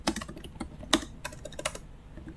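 Computer keyboard typing in quick irregular bursts of key clicks with short pauses, close and fairly quiet, no voices.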